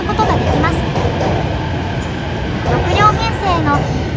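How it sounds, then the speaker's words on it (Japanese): A JR E259 series Narita Express limited express train pulling into a station, a steady low rumble and rolling clatter with brief squeals, loud and close, while a voice speaks over it. "17号となる電車が到着しました。"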